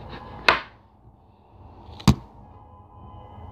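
A knife cuts an apple into thin slices, giving two sharp, isolated chopping knocks on a board about a second and a half apart, close and clear against a quiet kitchen background.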